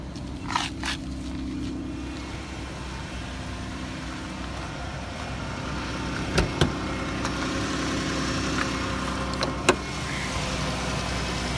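A 2011 Chrysler Town and Country minivan's 3.6 liter V6 idles steadily at close range, a smooth low hum with a few faint clicks and taps over it.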